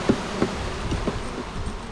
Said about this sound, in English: I'm just going to pour these bees into this hive now